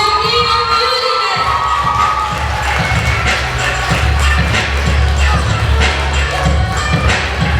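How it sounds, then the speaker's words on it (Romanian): A loud, dense crowd fills a hall at a school freshman ball, cheering and clapping continuously, with shouts and a few thuds mixed into the steady roar. "Aplauze!"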